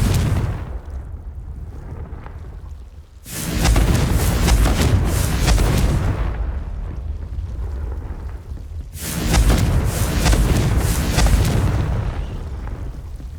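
Fiery spell blasts from Hogwarts Legacy: two loud, booming explosions, each bursting suddenly and rumbling on for several seconds, separated by a quieter stretch of low ambient rumble.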